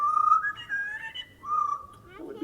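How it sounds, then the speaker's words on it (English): A zoo animal at Utah's Hogle Zoo whistles a short tune, a few clear, wavering whistled notes in two phrases, fairly close and alone, ending with a brief rustle. "Now, let's see if Poco can whistle us a little tune."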